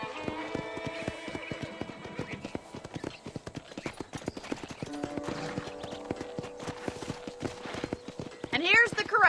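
Horse hooves clip-clopping in the Red Dead Redemption video game, a steady rhythmic run of close hoofbeats with a brief whinny near the end, under game dialogue.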